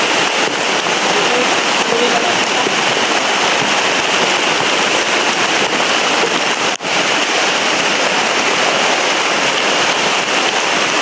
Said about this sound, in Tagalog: Sobrang lakas po talaga ng ulan